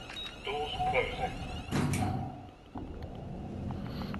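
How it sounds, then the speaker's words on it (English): Lift doors sliding shut in the Train Sim World 5 railway game, a short mechanical whoosh and clunk mixed with station ambience and a brief chime, with a voice talking over it. "Doors closing."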